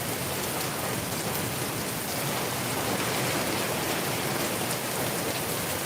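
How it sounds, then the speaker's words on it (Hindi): Heavy rain pours down in Darbhanga, a dense, steady hiss of drops striking the ground that stays loud and unbroken throughout, with no talk. "बारिश की रफ्तार काफ़ी तेज है।"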